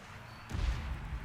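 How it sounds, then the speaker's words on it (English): Cannons fire at a tower in the Total War Warhammer 2 video game, heard as a single deep, muffled boom that rolls on briefly after a quieter lead-in. "we got all of our cannons shooting this tower over here"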